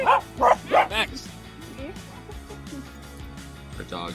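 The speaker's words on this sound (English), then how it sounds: "Our dogs just bark at everything." Dogs bark in a quick run of three or four loud, close barks, then fall to softer whimpers and yips, with a person talking nearby and one more bark at the end.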